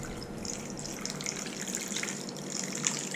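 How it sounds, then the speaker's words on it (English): Water pouring steadily from a bottle with a pour spout during bartending flair practice, a continuous close splashing stream lasting the whole clip, with no talk. "you can do a long pour, nice pour with a bottle of water"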